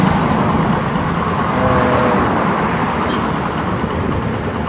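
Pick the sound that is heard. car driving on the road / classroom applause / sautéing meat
car driving on the road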